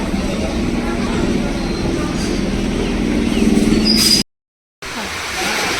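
A train rumbles past at a station with a steady low roar and faint squeal, voices murmuring underneath, before a brief dropout of silence.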